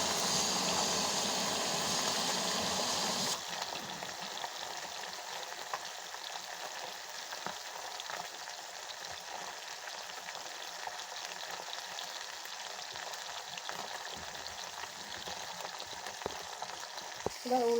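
Pieces of food deep frying in oil in a pan until crisp, a steady close sizzle and hiss that runs through the whole stretch, louder in the opening seconds and then settling into an even crackle.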